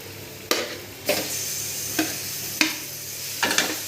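Eggplant stir-fried with fenugreek leaves in a pan, with a steady sizzle and five distinct stirring scrapes of a spatula at irregular intervals, close and alone without talk.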